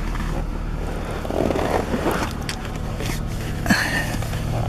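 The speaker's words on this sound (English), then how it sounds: "actuate the gas pedal to see what happens" A 2004 Jaguar X-Type's engine, being tested after an accelerator pedal sensor repair, hums steadily nearby and rises a little as the pedal is pressed, a low continuous drone with mild swells.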